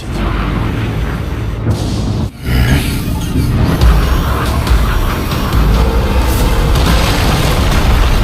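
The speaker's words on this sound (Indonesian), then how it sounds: "Terlihat di tahap pertama saja ledakan nuklirnya sudah seperti itu" A nuclear hydrogen bomb detonates in the Swallowed Star donghua, giving a loud, sustained booming roar that surges after a brief dip and rumbles on steadily to the end, with no talking.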